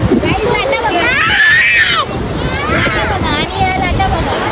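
Rushing surf of sea waves breaking on a beach, mixed with wind buffeting the microphone and people talking nearby.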